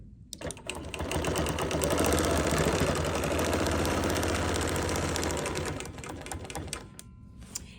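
A sewing machine quilts a Cup of Cheer quilt, stitching in the ditch around a box block: a steady, loud, fast mechanical whir running continuously for several seconds before slowing and stopping near the end.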